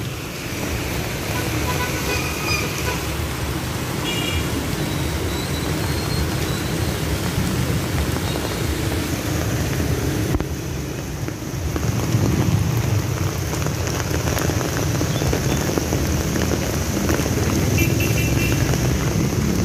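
Heavy rain pours down steadily outdoors, a dense roar that grows heavier partway through, with low rumbling thunder blending into the downpour throughout.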